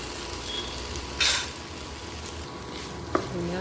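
Chopped tomatoes and green chili sautéing with salt and turmeric in a pan, a steady close sizzle and frying hiss with a brief stirring scrape partway through.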